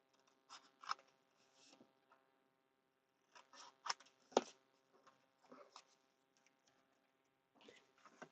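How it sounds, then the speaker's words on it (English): Scissors snip a corner off paper while a stepped concertina scrapbook album is made: several short, crisp cuts come in small clusters, close and fairly quiet, with pauses between them. "I'm just going to snip off that corner like so."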